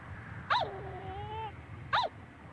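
Dog whimpering in the video game Yomawari: two short, high whines about a second and a half apart, with a faint tonal game sound between them over a quiet background.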